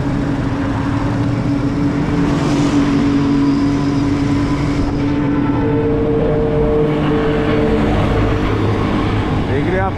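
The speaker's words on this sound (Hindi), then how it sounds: "ये बड़े बड़े जो रिक्शे हैं 8 सीटर और 12 सीटर" Large 8- and 12-seater passenger rickshaws race along a busy Karachi road, a steady loud engine drone and traffic roar running throughout with a rising whine near the end, close by.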